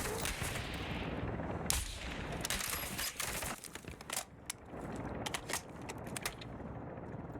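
Video game gunfire from Call of Duty DMZ, dense bursts of automatic shots and scattered single cracks that thin out into sporadic reports, loud and continuous, with no talk over them.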